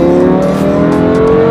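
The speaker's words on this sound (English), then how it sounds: "This car is super loud." Lamborghini Huracán engine revving hard and very loud up close, a dense harmonic roar with rising and falling pitch sweeps across a short burst, no voices.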